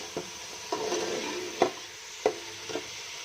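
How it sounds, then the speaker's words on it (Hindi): Tomatoes frying in a pan while being stirred, made for kadhi pakora: a soft steady sizzle runs underneath and about five spatula scrapes and taps land at uneven intervals, close and fairly quiet. "टमाटर भूनें, टमाटर अच्छी तरह गल जाएंगे, नरम हो जाएंगे।"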